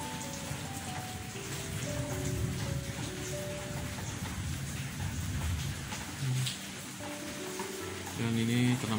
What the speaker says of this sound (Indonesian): saat ini sedang hujan di rumah saya